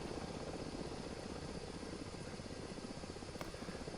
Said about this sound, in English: So I've trimmed out the helicopter to do like 60